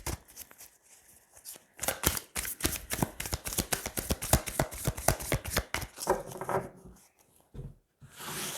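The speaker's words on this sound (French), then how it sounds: "Allez, on va tirer 3 cartes." Tarot cards being shuffled and drawn by hand make a long run of quick, crisp riffling and sliding card flutters, fairly close, with softer rubbing pauses between bursts.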